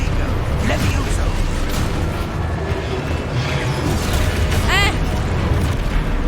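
Spell blasts and impacts from Hogwarts Legacy, a continuous dense rumble of magical bursts and crashes with a rising whistling effect near the end, a voice briefly exclaiming over it.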